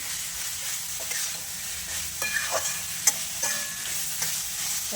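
Hand-torn tomatoes sauté in a pan for a Tamil pirandai chutney, a steady close frying sizzle with occasional soft stirring scrapes and one sharp utensil tap, no talking.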